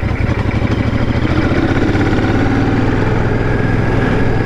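A Royal Enfield Shotgun 650 motorcycle's engine pulls steadily in fourth gear on the road, a loud continuous drone with wind noise and no talk.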